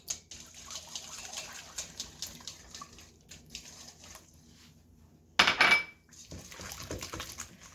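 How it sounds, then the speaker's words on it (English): A whisk scrapes and clatters against a metal or glass bowl while eggs are beaten into a chocolate and butter brownie batter, with steady close-up mixing sounds and a brief louder burst. "So we're going to whisk and add our eggs in."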